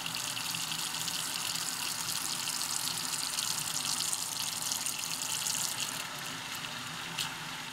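Water pours from a tap or jug onto a tray of Jiffy pellets as a steady, close splashing gush that softens slightly near the end, with no one speaking.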